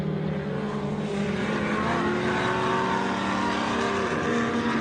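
Race car lapping Prairie City raceway in Rancho Cordova, California, at an SVRA event, its engine droning steadily and loudly with a slowly shifting pitch as it runs past.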